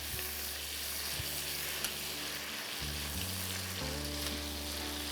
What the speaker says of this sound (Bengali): রাখো ওটা, আরো ভাজা হবে পেঁয়াজটা, বেশ লাল লাল করে কষা কষা জিনিসের মতো ভাজা হবে।